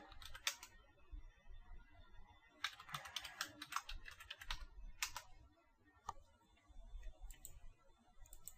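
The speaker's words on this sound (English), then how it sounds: "I'll just go ahead and enter the password ABC123" Someone types a password on a computer keyboard, two short bursts of quiet, rapid key clicks close by, separated by a pause, with no talking.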